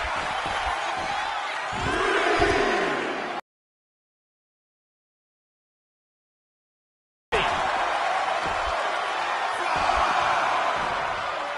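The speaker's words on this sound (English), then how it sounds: "This crowd got him fired up." A wrestling video game crowd roars and cheers in a dense, steady wash of noise with a swelling surge, cut by a few seconds of total silence before the cheering resumes at the same level.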